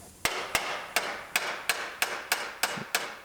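Nine sharp, evenly spaced hammer taps land about every third of a second, close and clear, driving a seatbelt bolt part into a tight fit during a rebuild of a Terrain's damaged floor.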